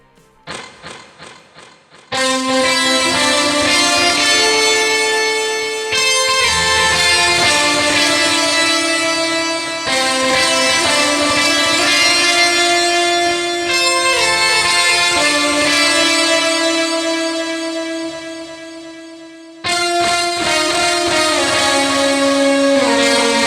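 Sustained electric guitar from a Stratocaster with a smooth, synth-like tone plays long held notes and chords, loud and close, after a few muted picked strums.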